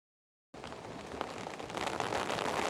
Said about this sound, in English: just as I did it started pouring with rain again